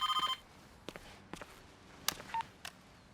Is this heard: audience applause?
no